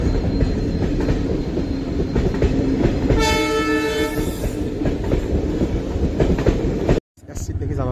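A train rumbles past a closed rail crossing in flooded Rangia, its wheels clattering loudly and a long horn blast sounding midway before the sound cuts off abruptly.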